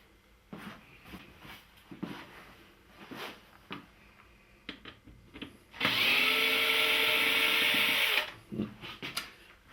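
A cordless drill backs screws out of a Philips flat-panel TV: one sustained loud whirring burst of about two seconds, surrounded by quieter clicks, taps and handling noises close by.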